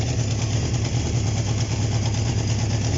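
A Honda CB750 motorcycle engine idles steadily at close range with a low, throbbing rumble and no breaks.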